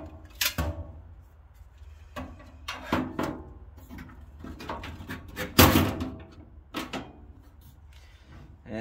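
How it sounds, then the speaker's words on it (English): Metal file cabinet drawer file stop being removed and reinstalled: a string of irregular clunks, knocks and metallic thuds up close, with one heavy bang near the middle and quiet handling between, no talking. "that is how you remove and install the file drawer dividers"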